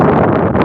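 Breezy wind buffets an outdoor fishing boat on open water during bass fishing, a steady close rush of wind noise lasting under a second with no voices.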